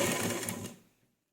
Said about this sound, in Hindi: फिर से इसमें सिलाई लगाएंगे।